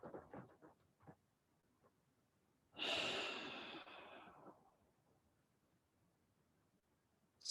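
A single long breath during a guided breathwork session, heard as a close, soft rushing exhale that swells and then fades over about two seconds, with fainter breaths before it in a quiet room.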